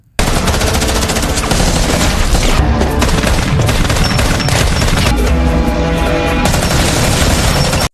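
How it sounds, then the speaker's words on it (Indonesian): Sustained automatic gunfire and rapid bursts of shots fill a shootout in an Asian revenge action film, loud and dense throughout with booming impacts and no talk. "Collins berhasil menghindar dan berbalik menembaki Payu"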